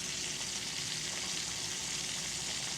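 Bacon frying in a pan, a steady dense crackling sizzle that carries on evenly throughout with no pauses and no talking over it.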